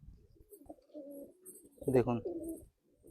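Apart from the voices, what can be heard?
Madrasi pigeons cooing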